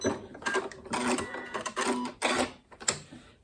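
A sewing machine stitches a cushion in several short bursts of fast mechanical whirring and needle clatter, separated by brief pauses, close and clear.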